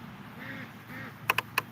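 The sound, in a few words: ducks quacking by the road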